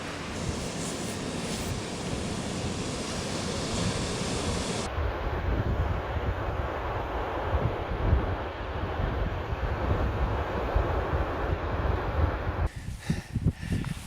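Gusty wind blows outdoors by the sea on a Hebridean coast, a steady loud roar buffeting the microphone throughout, with a harder-edged rush in the closing seconds.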